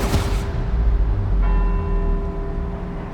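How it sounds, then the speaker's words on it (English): Church bells ring from bell towers in Edinburgh in the racing game Forza Horizon 4, a steady sustained tone over low rumbling engine noise that carries through the whole stretch. "let's see if we can visit every bell tower in Edinburgh and get back here before they all stop ringing"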